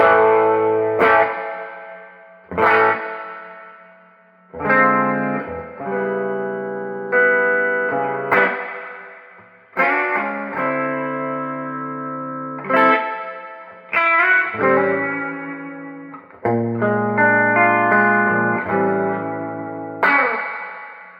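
Electric guitar chords strummed through a Peavey Classic 30 1x12 tube amp with the reverb maxed, giving heavy, splashy spring reverb, each strike ringing out and decaying into a wet, boingy tail, no voices.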